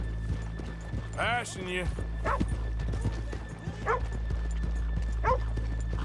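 Horse hooves clip-clop at a walking pace in Red Dead Redemption 2 as riders move through a town street, steady and close under several voices speaking and a horse whinnying.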